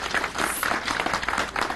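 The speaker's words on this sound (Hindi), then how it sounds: "तालियां होनी चाहिए भाई" Audience applause at a chief minister's village chaupal gathering, a steady moderately loud patter of many hands clapping over about two seconds, with no talk.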